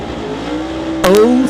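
A drag race car making a single pass up the left side of the racetrack at a Mission, BC event, with a loud steady engine roar that bursts even louder near the end.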